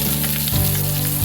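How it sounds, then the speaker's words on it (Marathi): Chopped onion sizzles in two spoons of hot oil in a kadhai, a loud, close, continuous crackling fry with a brief stirring scrape partway through. "कढईमध्ये तेल घेतलेलं आहे 2 चमचे मी फोडणीसाठी। ते तापलेलं आहे आता। त्यामध्ये कांदा घालायचा आहे।"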